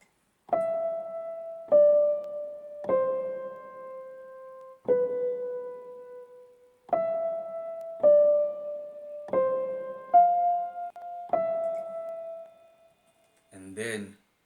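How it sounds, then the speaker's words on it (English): A second lofi piano part plays a sparse melodic line of single sustained notes, each ringing out and decaying, quiet and alone, with a brief burst of other sound at the very end. "This is the second piano."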